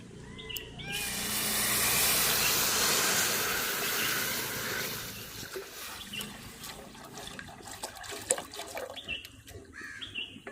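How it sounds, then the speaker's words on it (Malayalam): Milk is poured into a hot pan with ghee for carrot semiya payasam, making a loud, steady rushing hiss for several seconds. It fades into quieter sizzling and bubbling with scattered small clinks. "നമുക്ക് പാലൊഴിക്കാം"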